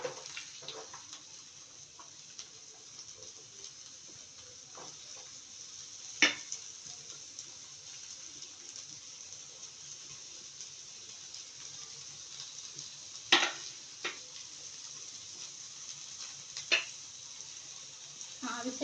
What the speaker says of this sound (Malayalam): അത് പാൻ ചൂടായതിനു ശേഷം നമ്മൾ അതിലേക്ക് ഇട്ട് കൊടുക്കുക.